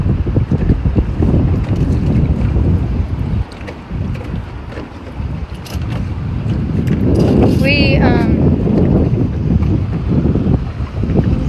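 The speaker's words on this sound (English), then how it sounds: "We're over here in the wind, so just hang in there. It's going to get loud." Strong wind buffets the microphone out on open water during a bass fishing outing from a boat, a loud continuous rumble and roar throughout, with brief higher squeaks near the end.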